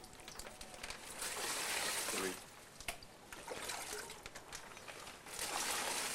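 Water pours and sloshes into a plastic bag while fish are being packed, about four liters filling in bursts of trickling and splashing, with a voice talking over it.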